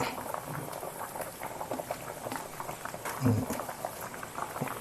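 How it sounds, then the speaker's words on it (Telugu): Fish curry broth bubbles at a rolling boil in a pot, a steady close gurgle and patter, with a voice faintly speaking underneath. "పులుసు బాగా మరుగుతుంది కదా"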